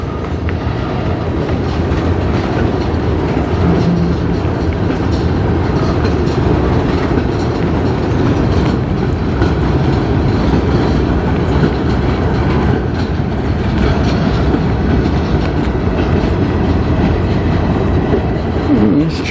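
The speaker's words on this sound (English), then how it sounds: "They're just putting this train into a lane, I think, in the yard" A CN manifest freight train rumbles past steadily and loudly in a rail yard, a dense continuous roar of rolling wheels and rail noise with faint clacking throughout, close by.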